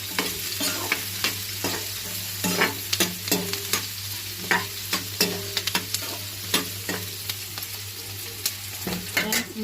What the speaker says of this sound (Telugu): అది కొద్దిగా బ్రౌన్ కలర్ వచ్చేదాకా ఫ్రై చేసుకోవాలి ఆనియన్స్ని